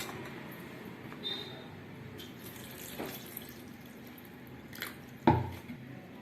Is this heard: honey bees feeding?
no